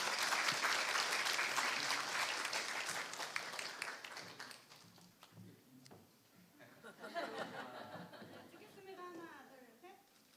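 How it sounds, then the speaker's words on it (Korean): A crowd applauds loudly at a Catholic university entrance ceremony, the clapping gradually fading out as murmuring voices and light chuckles take over. "큰 박수 부탁드리겠습니다"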